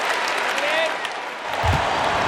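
A home crowd at a Detroit Pistons basketball game in NBA 2K19 applauds and cheers in a steady, loud wash of clapping, while a commentator's voice talks over it.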